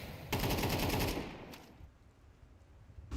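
Gunfire exchange in a Counter-Strike match, a rapid burst of automatic fire rattling loudly before it drops away, then a single later shot.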